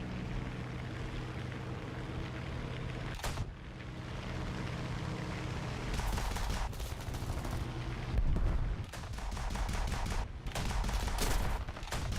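Aircraft guns firing in War Thunder, with repeated loud bursts of rapid gunfire over a steady engine drone and a long sustained volley near the end.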